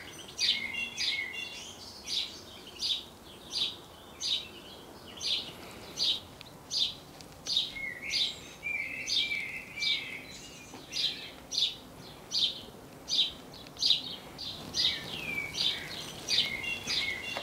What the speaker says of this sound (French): je vous laisse en compagnie du chant des oiseaux